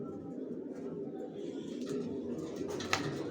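Racer pigeons coo softly inside a loft, a low murmuring burble with a few brighter chirps near the end, faint and fairly close.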